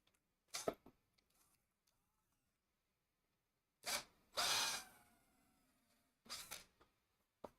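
Battery drill fitted with a 10mm cutter boring into wood: a few short whirring bursts spaced apart, close and crisp, with a longer run in the middle and quiet pauses between.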